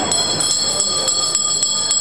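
Bells ring at a blessing ceremony, sounding as a bright, sustained metallic peal with regular strikes about every quarter second, moderately loud over a faint background murmur.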